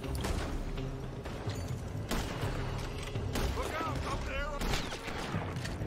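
Dense gunfire rattles through a Red Dead Redemption 2 town shootout, with repeated shots and sharp cracks under a continuous noisy battle bed, and someone talks over it.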